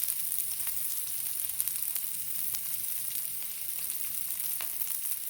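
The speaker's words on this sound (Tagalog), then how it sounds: "Yung medyo maluto nyo lang yung bawang at sibuyas." Garlic and onion sautéing in a pan give a steady, even sizzle with faint crackles throughout, close and moderately quiet, with no voices.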